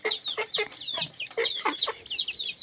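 Chickens raised next door cluck in a steady, overlapping stream of short calls, fairly close and clear, with no talking.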